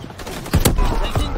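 Shotgun blasts in a Call of Duty multiplayer match, two or three sharp booming shots in quick succession, close and loud, with game noise and a voice talking over them.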